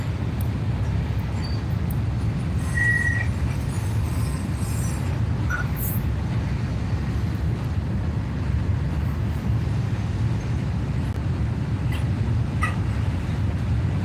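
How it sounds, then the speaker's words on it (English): A train passing near a fishing spot by the water: a constant, heavy low rumble that holds steady and close for the whole stretch, with faint higher clatters on top and no speech. "can hear you over the train, so it's all good"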